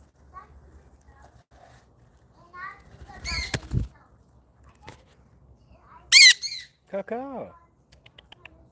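A pet bird gives several loud, harsh squawks in short bursts near the end, close by, amid quiet background and occasional human speech.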